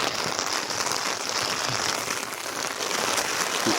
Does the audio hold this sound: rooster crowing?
no